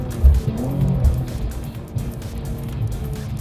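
A race car driven hard on a track, engine droning and rising as it accelerates, with some tire noise, steady and fairly close throughout.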